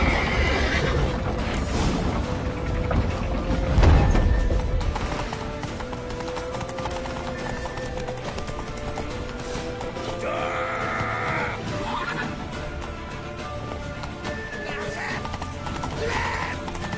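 Horse neighs and hoof clip-clops in The Witcher video game during a chase to a temple, set in a busy game soundscape with music and effects; a loud burst near the start, whinny-like tones recurring later.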